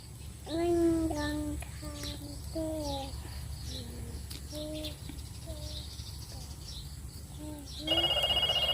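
A telephone rings in a Thai home with a repeating chirpy electronic tone pattern. The ringing is faint under a low background hum, and a higher tone joins near the end.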